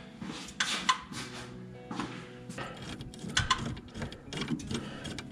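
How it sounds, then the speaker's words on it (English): A bolt on a Jeep Wrangler steering shaft is tightened near the U-joint with a tool, giving short bursts of rapid metallic clicking and ratcheting separated by brief pauses, close to the microphone. "we're good to tighten this bolt."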